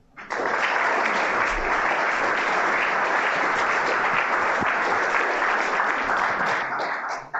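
An indoor audience breaks into warm, sustained applause for a speaker's introduction, a thick even wall of clapping lasting about seven seconds before it stops abruptly.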